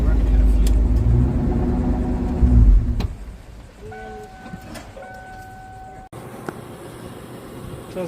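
A Cobra-swapped Mustang GT engine, nearly out of fuel, runs close by with a heavy, low rumble for about three seconds, then shuts off, leaving quieter mechanical ticks and brief electronic tones.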